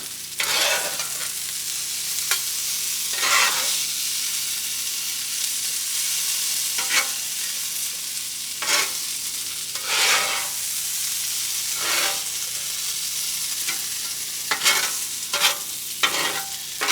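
Potatoes frying on a griddle in an off-grid cabin, a constant sizzle cut by repeated scraping stirs from a spatula, close and fairly loud with no talk.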